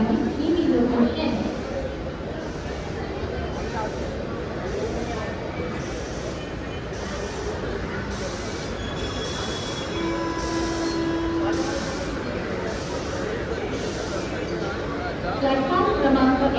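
A Mumbai mini local train at a platform of Mulund station, a steady broad rumble of carriages and wheels with brief squeals, continuing throughout while station announcements and voices sound over it.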